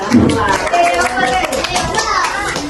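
Classroom children clapping for fellow students, a busy, close patter of small hands mixed with chatter and a teacher's voice throughout.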